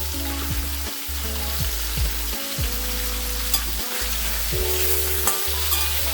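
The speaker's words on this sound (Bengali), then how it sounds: "মাছগুলো ভাজা হয়ে গেলে আমি তুলে নেব" Shol fish frying in a pan sizzles steadily in hot oil, with a few brief scraping stirs and clicks from the pan breaking through the continuous crackle.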